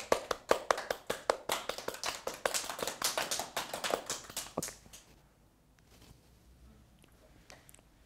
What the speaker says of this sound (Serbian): I to je jedan aplauz za mene.